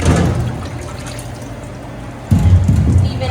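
Warm tap water running over dishes being washed at a home sink, a loud, steady rushing splash that briefly dips and then surges heavier again, close and without talk.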